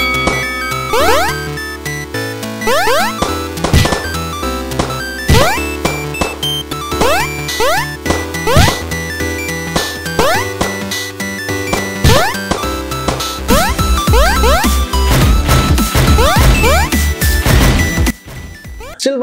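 Rooftop Snipers browser game play, with loud repeated jump and gunshot effects, crashes and whacks cutting in rhythmically over busy looping game music that stays dense and close from start to finish.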